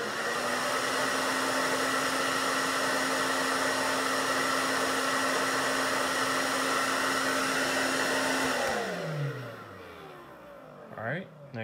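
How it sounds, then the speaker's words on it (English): A hair dryer blows with a steady loud whir and whine, then shuts off and winds down, its pitch sliding lower as it fades. "let's turn the hairdryer on."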